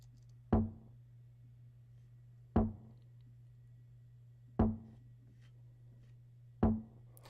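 A main tom drum in a remix strikes four times at an even two-second spacing, each hit sharp and full-bodied with a quick decay over a steady low hum, no other instruments or voices present.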